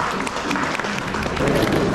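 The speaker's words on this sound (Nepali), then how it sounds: "हामी सबैजनाले ताली बजाएर स्वागत गर्यौँ।" A hall audience at a Dolpo Society anniversary celebration claps together to welcome an arriving guest. The applause is dense, loud and continuous and fills the whole brief moment.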